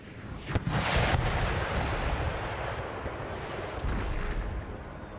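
Artillery guns firing in the Empire Total War strategy game during a siege attack on Moscow, a dense, loud battle roar with several sharp cannon booms spaced across it.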